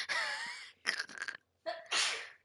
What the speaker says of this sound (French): On m'éternue dessus.